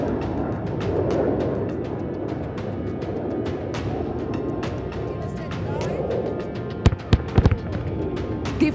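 Fragmentation bombs from an air force strike burst on a target, a few sharp, loud blasts near the end over a steady rumble of engines or wind.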